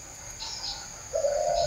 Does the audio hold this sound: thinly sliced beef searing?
no